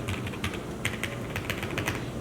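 Rapid typing on a newly built QK80 mechanical keyboard, with a steady run of close, crisp key clacks and no talking.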